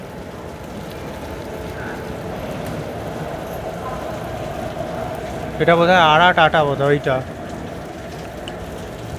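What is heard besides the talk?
heavy rain falling at a railway station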